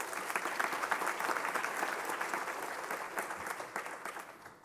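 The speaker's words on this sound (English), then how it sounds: "and that deserves a round of applause." An audience applauds at a public health talk on stigma and treatment access, a dense, steady wash of many hands clapping at moderate distance that slowly fades toward the end.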